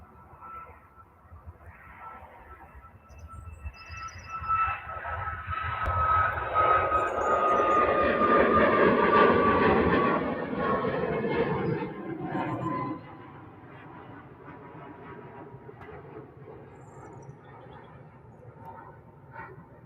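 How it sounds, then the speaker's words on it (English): A Ryanair jet departs Manchester Airport for Murcia; its engine roar swells from a low rumble with a thin whine into a loud, close surge, holds, then drops off sharply and fades into distant rumble. "Ryanair heading off to Murcia."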